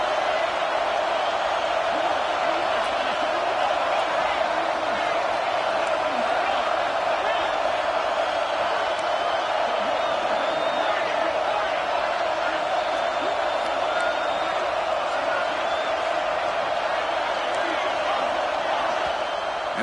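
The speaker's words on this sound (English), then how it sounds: "The crowd really making some noise now, trying to help out this defense to get this stop near the goal line." A packed football stadium crowd at an SEC game, Tennessee against Georgia, roars in a dense, unbroken wall of cheering and noise while the home defense tries for a stop near the goal line.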